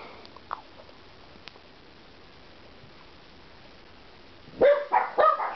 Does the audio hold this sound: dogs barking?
yes